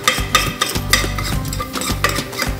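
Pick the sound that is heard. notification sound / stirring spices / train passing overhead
stirring spices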